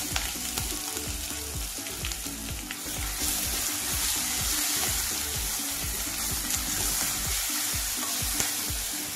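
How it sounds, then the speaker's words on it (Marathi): Loud, continuous sizzling and crackling of chili, ginger and garlic paste frying in hot oil for tempering, with faint stirring scrapes, close up and without speech. "मिरची, अद्रक आणि लसूणचं जे वाटण काढलेलं होतं ते आपण फोडणीत टाकू"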